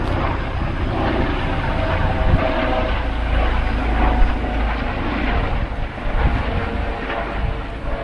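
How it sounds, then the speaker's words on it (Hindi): A red emergency rescue helicopter flies overhead near a public university campus in Germany, a steady loud rotor and engine roar lasting throughout with some wind-like rumble and no talk. "तो यहाँ पे अब एक हेलीकॉप्टर जा रही है। ये रेड हेलीकॉप्टर है, मतलब ये है इमरजेंसी वाला।"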